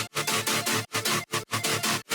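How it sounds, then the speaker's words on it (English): Thick super saw synth chords layered with bass, pumping in a loud, regular rhythm of wide, buzzy bursts separated by short dips, upfront and with no voice. "And then I thickened it up with some additional super saw chords and bass"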